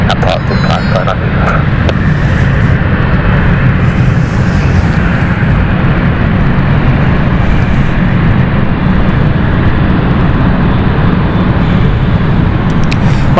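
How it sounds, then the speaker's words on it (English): An airliner on the Amsterdam flight coming in to land at London City Airport, a steady loud broadband engine roar filling the whole stretch, with no clear pauses. "let's watch the Amsterdam flight as it comes in again"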